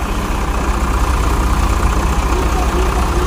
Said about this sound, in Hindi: पहला ट्रैक्टर ये गया 50 प्लस है, 55 एचपी का ट्रैक्टर।